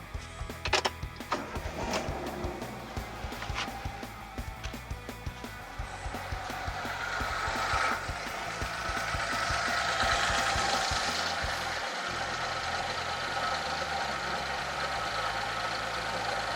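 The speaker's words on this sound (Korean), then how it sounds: "자, 이 상태에서 시동을 한번 걸어 볼게요." A car engine with its timing belt cover off cranks and catches, then settles into a steady mid-pitched idle with a faint knocking tick. The sound is fairly close and holds at an even level.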